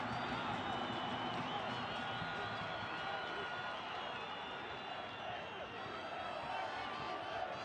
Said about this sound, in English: Crowd has been engaged the whole way.